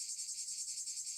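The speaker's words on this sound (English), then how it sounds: "Cicadas." Cicadas in hot summer weather in Japan drone in a high, shimmering, pulsing buzz, steady and fairly faint, with nothing else heard.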